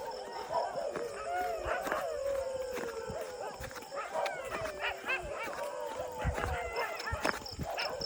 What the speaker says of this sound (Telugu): dogs sounding